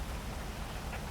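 Steady video game rain patters continuously, a dense even hiss with no breaks or voices.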